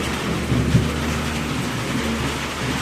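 Heavy night rain in Boodagumpa drums steadily on sheet roofing, with a low rumble of thunder rolling underneath and a brief louder thump early on; no one speaks.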